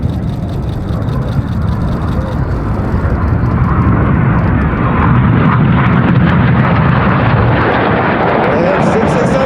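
RAF Red Arrows jets roar loudly overhead at the Oregon International Airshow, a dense, sustained engine rumble filling the air with a rising whine near the end, while a commentator talks over it.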